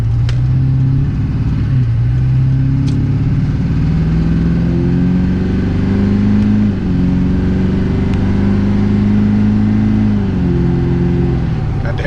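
A deep diesel engine of a 2004 Chevy Duramax pickup with new injectors drones loudly, its pitch climbing steadily through gear changes as the truck accelerates, with faint voices underneath.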